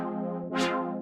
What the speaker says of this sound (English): it's this kind of wah-wah saw synth